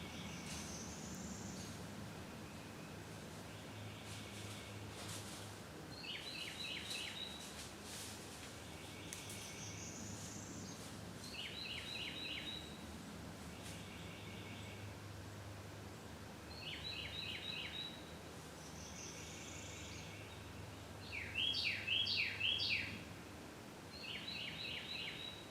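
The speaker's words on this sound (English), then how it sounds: "I'm hearing all the birds a lot more right now." Faint outdoor birdsong, with repeated short chirping calls scattered over a quiet hum of background noise and no voices.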